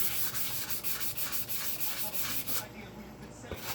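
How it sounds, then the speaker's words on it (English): Rhythmic back-and-forth hand sanding strokes on a J Bass guitar body, brisk and close, about four per second, then stopping into a quieter rub and a small knock. "As light as I'm sanding it, I'm not too worried about it."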